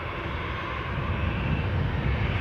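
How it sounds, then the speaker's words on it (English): An EasyJet Airbus A320 departing for Basel gives a steady, broad jet engine roar that holds at an even loudness from start to finish, with no voices. "the EasyJet A320 that you have in front of you is off to Basel"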